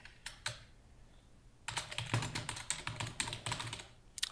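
Typing on a computer keyboard while working in Revit software: a few isolated taps, then a quick burst of close, crisp keystrokes, with no talking.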